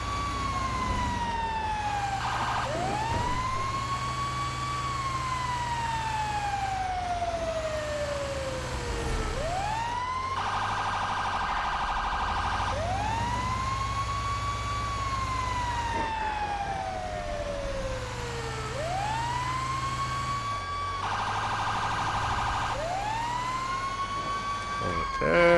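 A Ford F-750 ambulance siren wails in GTA 5, loud and continuous, its tone sweeping repeatedly up and down in long cycles over a low engine rumble.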